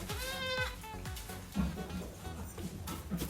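Young purebred Nubian goat kids bleat in short, repeated cries, several overlapping calls close by at moderate volume with some pen noise between them.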